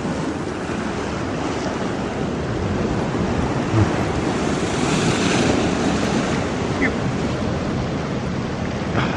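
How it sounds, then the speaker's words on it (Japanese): Ocean waves break steadily on a rocky shore near a cliff, making a loud continuous roar and wash with strong wind buffeting the microphone throughout. "やっぱ波だ。"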